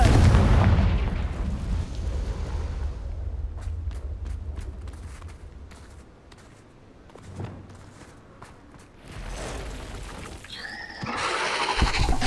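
A Confringo blasting spell explodes in the Hogwarts Legacy video game, opening with a loud, booming burst. Softer thuds and footsteps follow, then a second strong blast swells near the end.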